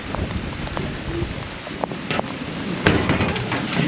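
Heavy rain pours steadily during a tornado storm, a dense broadband wash with occasional louder gusts and spatters, close and fairly loud, no talking.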